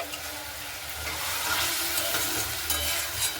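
Tomato with salt and turmeric sautéed in a pan, a soft continuous sizzle with the light scrape of stirring, fairly quiet and close, no talk.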